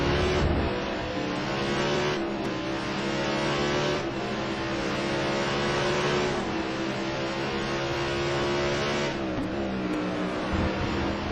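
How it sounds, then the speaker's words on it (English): A Corvette race car engine screams steadily at high revs during a race at Magny-Cours, loud and continuous with slight rises and dips in pitch as it shifts, with no voices. "that's the sound of the Corvette"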